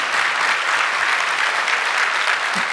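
An audience applauds at a political address in Brazil, a dense and loud wash of clapping that stays even and unbroken throughout.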